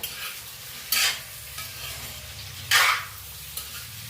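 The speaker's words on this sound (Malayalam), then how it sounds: "ആ ഉള്ളിയും കൂടെ അങ്ങ് ഇട്ട് കൊടുത്ത് ഈ എണ്ണയ്ക്കകത്തൊന്ന് വഴറ്റിയിട്ട്" Shallots sauté in oil with a soft continuous sizzle, broken by two louder scraping bursts of stirring in the pan.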